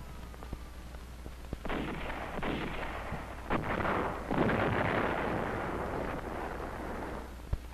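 Artillery and mortar fire thunders in the 1944 battle of Saipan, a series of booming blasts and sharp cracks with rolling rumbles in between, heard from a distance over a low steady hum.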